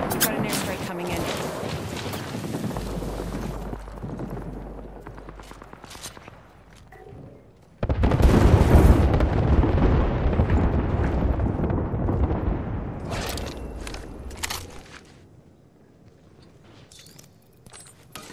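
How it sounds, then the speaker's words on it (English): Airstrike explosions rumble through an Apex Legends match, a heavy sustained blast erupting around eight seconds and rolling on for several seconds, with footsteps, game voices and battle noise around it. "Heads up, we've got an airstrike coming in."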